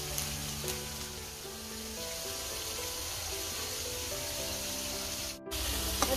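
Fish frying in oil over a clay stove in a village kitchen: a steady, moderately loud sizzle and hiss runs throughout, with a brief dip near the end before the crackling resumes.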